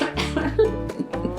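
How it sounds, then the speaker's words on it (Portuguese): A woman gives a short cough, close and loud, with a brief throaty follow-up, pausing while telling a story about a historical figure. "Eu preciso tossir."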